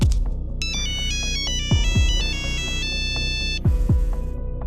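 A mobile phone rings on and on without being answered, a repeating electronic melodic ringtone playing loud and alone, with soft swooping tones beneath it.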